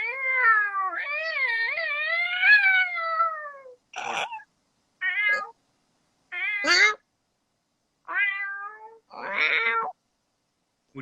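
A person imitates a cat, starting with a long drawn-out meow and following with several short chirpy meows spaced by pauses, close and clear with no other talking.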